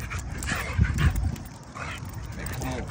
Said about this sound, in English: so I got the tri-color dog